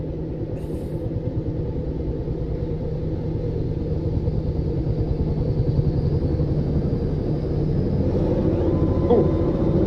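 A steady, loud rotor-and-engine drone of a helicopter in the video game Arma 3, continuous throughout with a faint whine rising near the end.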